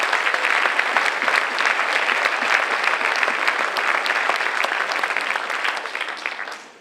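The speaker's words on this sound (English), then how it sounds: "so let's give them a round of applause." A crowd at a high school spring sports awards night gives dense, sustained applause. It stays loud and even throughout and fades out at the close.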